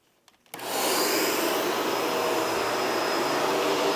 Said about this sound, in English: go ahead and take your time, do a good thorough vacuum